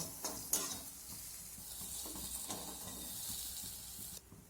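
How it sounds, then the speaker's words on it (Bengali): Fried lentil dumplings (bori) being lifted out of hot oil, with a steady sizzle and hiss from the pan, a few sharp clinks of the utensil early on, and the sizzling dropping away near the end. "এখানে আমার বড়িগুলো ভাজা হয়ে গেছে। এখন এগুলোকে আমি তুলে নেব।"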